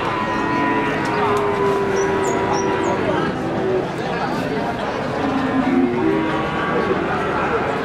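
Limousin cattle moo in low, drawn-out calls at the Wagenan Margo Rejo cattle market, a few lowing voices rising over a steady crowd murmur and nearby chatter, with faint bird chirps above.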